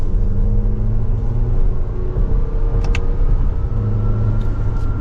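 The 4-cylinder engine of a 2024 Toyota Grand Highlander 4WD Platinum accelerating in sport mode with manual shifting, a steady, loud low rumble and hum heard from inside the cabin, with a few faint clicks.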